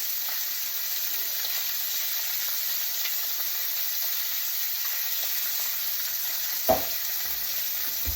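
Pork chops sizzle steadily in a frying pan, a constant bright hiss with faint crackle throughout, broken by one brief louder clack near the end.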